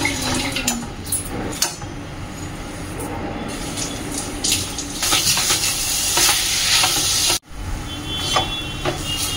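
Jaggery heating with a little water in a pan, a continuous sizzle and bubbling with stirring scrapes, louder frying hiss in the latter part and a brief gap near the end.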